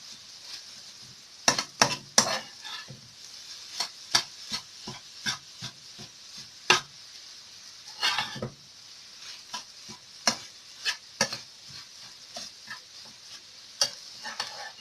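Spiced egg and spinach frying in a pan while being mixed, a soft sizzle broken by many quick scraping and tapping strokes of a utensil, some in rapid clusters, close and clear with no voices.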